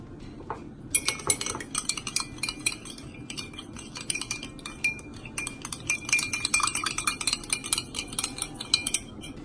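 Cabbage dill salad seasoned with salt and pepper being tossed in a bowl, with steady clinking and scraping of utensils against dishware running nearly continuously, close and moderately loud, no talking.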